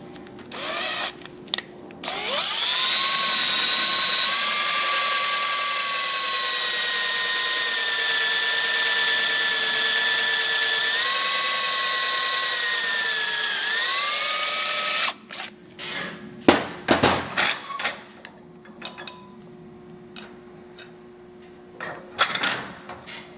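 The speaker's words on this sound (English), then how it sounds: "when you're trying to drill right next to that hole" A power drill runs in one long steady whine for about thirteen seconds, drilling beside an existing hole in a bag latch on a Victory Cross Country motorcycle. Short bursts and knocks come before it, and scattered clatter follows.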